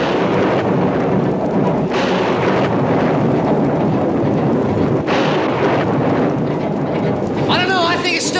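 A spring thunderstorm with a loud, continuous low rumble of thunder, booming surges rising and falling, and a faint voice-like sound near the end.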